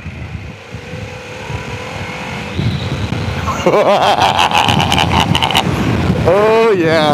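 A Harley-Davidson Pan America 1250 Special motorcycle being ridden, its engine droning steadily under heavy wind rush, rising into a louder revving stretch while the rider exclaims over it.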